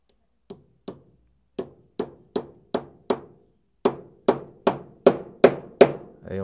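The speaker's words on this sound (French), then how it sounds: "j'ai plus qu'à tapoter gentiment pour enfoncer le roulement qui est là" A hammer taps a bearing into a bicycle wheel hub while spoke tension is being adjusted: about a dozen sharp, separate taps at a regular pace that grow slightly louder and faster toward the end, close by with no talk.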